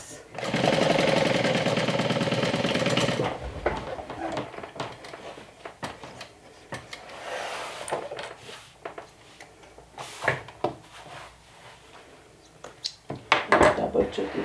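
A sewing machine runs in a fast steady burst while top stitching a medium-size crossbody tote bag, followed by quieter handling clatter of fabric and tools with some talk.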